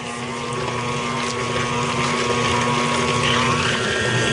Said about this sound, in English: I'm using my Kitchenaid mixer.